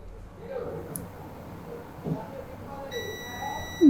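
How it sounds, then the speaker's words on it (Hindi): A multimeter buzzer in continuity mode sounds a steady high-pitched beep across a mobile phone circuit during dead-phone diagnosis, starting near the end of the clip at moderate loudness beneath quiet talk and background noise. "दोनों साइड से ही बीप कर रहा है"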